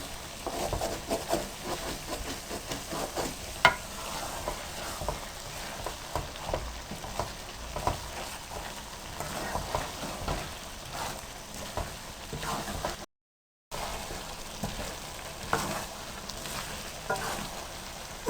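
Eggs and potatoes fry in oil in a pan for aloo anday ki bhujia, sizzling steadily while a spoon stirs and scrapes in irregular strokes, close and clear, with a short drop-out near the end.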